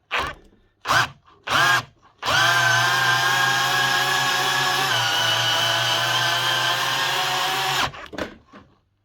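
A cordless power drill gives a few short bursts, then whines in one long steady run while backing out its chuck before stopping, followed by brief clicks and revs.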